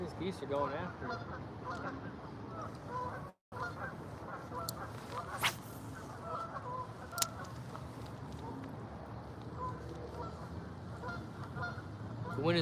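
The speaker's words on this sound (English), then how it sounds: "These geese are going after it." Geese honk repeatedly beside an urban fishing spot in Ohio on a windy spring day, their calls scattered over steady wind noise and background murmur, with a few sharper honks standing out.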